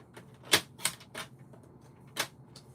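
A paper trimmer slices card stock in a few sharp, crisp cuts heard up close, separated by brief pauses in a quiet room.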